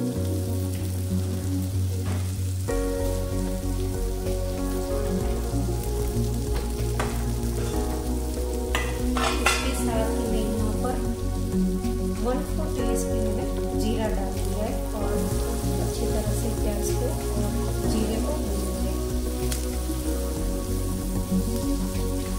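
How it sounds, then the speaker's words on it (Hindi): A chopped onion fries in about two tablespoons of butter in a pan, cooking toward light golden brown, with a steady sizzle and occasional stirring that continue throughout over a constant background tone. "अच्छी तरह से भूनूंगी इसको।"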